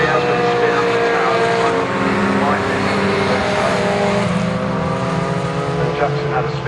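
MG race cars thunder past at Croft circuit during an MG Car Club race, a dense, loud, continuous roar of several engines close by, with commentary audible underneath.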